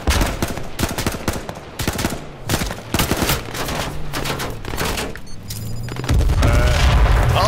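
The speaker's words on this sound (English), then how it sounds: "Oh, they just grenade themselves." Explosions and bursts of gunfire from the battle royale game H1Z1, with a grenade going off. Dense, overlapping booms and rapid shots run throughout, ending in a loud sustained blast.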